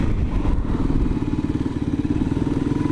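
A light 112-kilo motorcycle turns around on a dirt track, its engine giving a close, steady low rumble that pulses evenly throughout.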